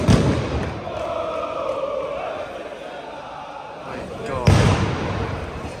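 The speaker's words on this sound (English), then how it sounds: "There's so many people with flares, bombs." Firecracker bombs bang among ultras at a Zurich football derby between Grasshoppers and FC Zürich, two heavy thuds cutting through a dense, roaring stadium crowd, one at the start and a sharper one near the end, with fans shouting close by.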